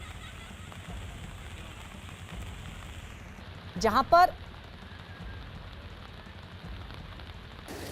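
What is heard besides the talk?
rain falling in Rishikesh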